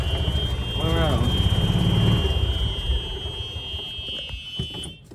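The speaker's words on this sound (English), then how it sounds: "I hate that reverse beeping thing." A continuous high-pitched electronic warning tone drones steadily under engine rumble, with a brief voice and some clatter near the end.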